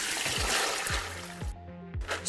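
Rinsed soybean sprouts are shaken to drain off excess water, producing a continuous wet splashing and dripping with a few quick rhythmic shakes, close and moderately loud.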